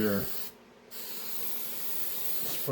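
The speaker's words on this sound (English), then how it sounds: "you can spray this on your balsa wood" An aerosol can hisses in a steady spray onto balsa wood, pausing briefly near the start before resuming as a long continuous hiss, close to the microphone.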